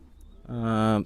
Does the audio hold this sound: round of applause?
no